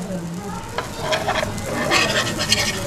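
Bhanavli, a traditional Marathi snack, frying in a pan just after being flipped, with a steady close sizzle and scattered crackles growing a little louder toward the end.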